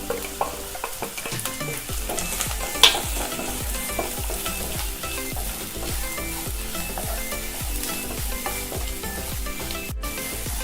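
Finely chopped onions and garlic sautéing in a pan for paneer masala, a loud continuous sizzle broken by rhythmic scraping strokes of a spatula stirring throughout, close and with no voices.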